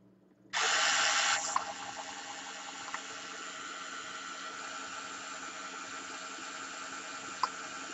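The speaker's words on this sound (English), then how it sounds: "Just put a twisty tie thing around the trigger of this drill, and you can see it's stirring it up a little bit." Cordless drill with its trigger held down by a twist tie, spinning as a makeshift mechanical stirrer; a steady, loud whir starts abruptly and runs continuously, with a brief louder burst at the start and a few faint clicks.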